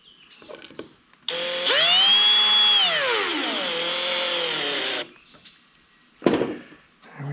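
A power drill drives two screws into a DIY turkey mount, its motor whining up in pitch and then settling for several seconds, loud and close, with short handling knocks before and after.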